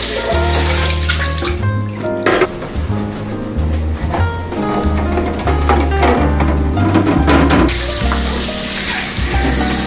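Tap water running while large storage jars for bulk pantry items are washed, a steady rushing stream over a loud music track with occasional clinks and splashes, and no talking.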